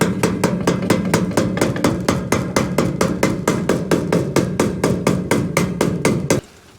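A hammer pounds rapidly on a trailer panel during a re-skin, some two dozen sharp, evenly spaced blows in a loud, close, steady rhythm before stopping, with no voices.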